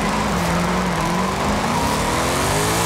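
Modified sleeper sedan in Forza Horizon 5 revving hard, a loud, steady engine roar with rising harmonic tones sustained throughout, tire squeal faint underneath.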